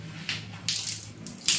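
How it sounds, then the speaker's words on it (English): Water poured over curly natural hair during a home wash comes in three short splashing bursts over a quiet background, close and fairly loud. "pour water."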